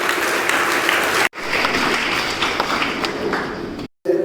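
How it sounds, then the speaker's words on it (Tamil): An audience applauds steadily as a guest is welcomed onto the stage at an awards and speech event in Kanchipuram, a dense continuous wash of clapping broken by two brief cuts. "எல்லோரும் பலத்த கரகோஷம் எழுப்பி அவரை வரவேற்று பார்க்கலாம்."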